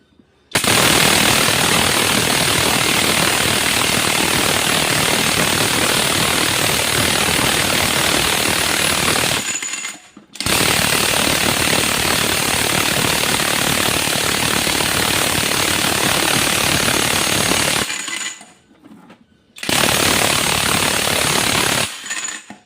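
A front wheel bearing on a Perodua Axia is forced out with a press, giving a loud, continuous harsh grinding and rattling roar in three long bursts separated by short pauses.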